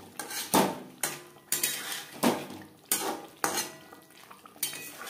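Potatoes and spices are stirred in a pan for a vegetarian potato and paneer curry. A utensil scrapes and clanks against the pan in about eight distinct strokes with a faint sizzle underneath and no talk.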